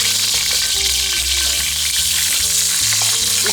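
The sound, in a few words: stir-frying parboiled green beans in oil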